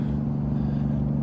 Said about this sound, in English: well, here's a truck. He's gonna freaking mash me